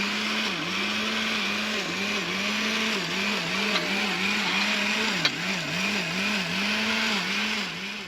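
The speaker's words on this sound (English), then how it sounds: "then we're gonna turn on the blender" A blender whirs steadily and loudly throughout, its motor pitch wobbling up and down in a regular rhythm as the contents churn.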